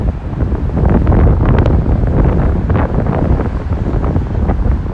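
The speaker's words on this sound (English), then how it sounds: "Sorry about the wind noise. It's very windy up here on the bridge right now." Strong wind buffets the microphone on a New York suspension bridge in a loud, continuous roar and rumble, gusting without pause and no voices.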